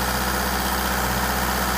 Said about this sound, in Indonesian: mesin akan meraung lebih tinggi dan proses purgingnya pun akan lebih cepat